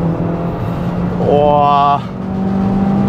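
A Mazda CX-3 engine briefly flares in a rising rev while downshifting to third gear at a braking turn, loud and close inside the cabin, with a voice speaking over the drone around it.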